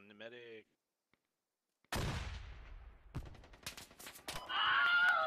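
Gunfire in the military shooter Squad (Alpha 3.8): after a brief voice and a pause, sharp shots and rapid bursts crack out at close to middle distance, with a louder sustained burst at the end.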